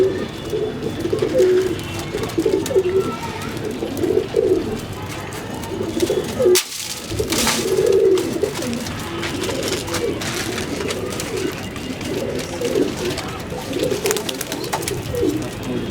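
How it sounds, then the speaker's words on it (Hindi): White Madrasi pigeons coo steadily and close by in a loft in Kotla Mubarakpur, New Delhi, with their repeated calls running throughout and a brief sharp noise midway. "ये जो व्हाइट वाले कबूतर है"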